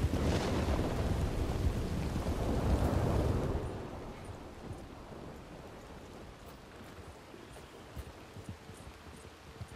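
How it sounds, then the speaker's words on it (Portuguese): Steady rain in the video game Red Dead Redemption 2 pours down near a waterside camp, heavy and close for the first few seconds, then eases to a softer, continuous patter with a few faint scattered drips. "Chuva, chuva, chuva."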